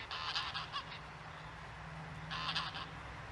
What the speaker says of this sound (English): all the geese